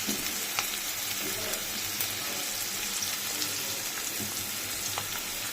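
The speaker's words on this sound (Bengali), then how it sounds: "পেঁয়াজটা ভাজা হবে" Onion fries in a pan for chicken curry with a steady, dense sizzle and crackle of oil, occasional stirring clicks sitting in the hiss at a moderate, close level.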